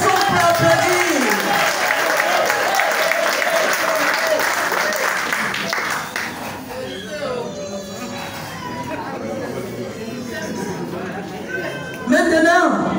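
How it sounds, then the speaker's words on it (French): A live audience at a French-language health and nutrition talk claps, a dense, steady wash of applause over a crowd that fades into a lighter patter with scattered voices, then swells briefly again near the end. "Est-ce qu'on peut applaudir?"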